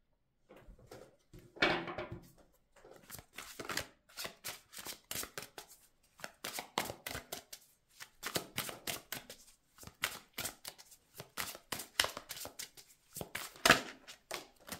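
Cards being shuffled repeatedly for a tarot-style card reading, a quick run of close, crisp riffling and slapping bursts with short pauses between them and no voice.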